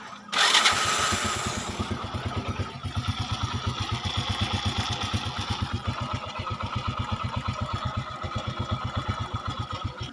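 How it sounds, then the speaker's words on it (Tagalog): A Honda XRM110 motorcycle engine sputters to life after a valve clearance adjustment and settles into a steady, throbbing idle with an even, rapid putter, close up. "Subukan natin yung makina."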